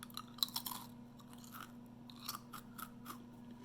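Crunchy homemade sourdough crackers are chewed close and quietly, with a few crisp bites and crunches scattered over a faint steady hum.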